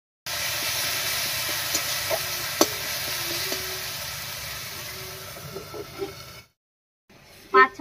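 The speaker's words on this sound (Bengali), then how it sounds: "এবারে ঢাকা দিয়ে টমেটোটা রান্না করে নেব।" Salted tomato cooking under a lid in a pan for a cauliflower and egg curry gives a steady, close sizzling hiss that runs for several seconds, then cuts out, followed by a brief clatter.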